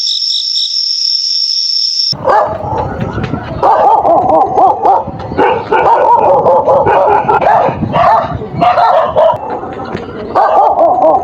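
A dog barks repeatedly in front of a house gate, loud and close, in uneven bursts. A steady high-pitched tone plays alone for the first moments before the barking begins.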